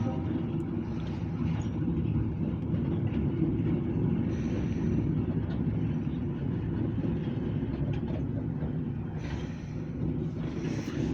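A grain hopper freight train with tank cars rolls past at a distance, giving a steady low rumble and rail noise that holds at an even level with no clear wheel clicks.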